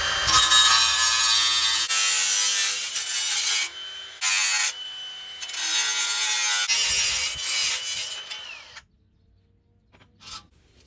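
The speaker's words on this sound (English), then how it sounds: "the angle grinder." An angle grinder cuts through a car's dust shield near a brake caliper, a loud continuous high-pitched whine in long bursts with brief pauses, the disc spinning down before near-silence at the end.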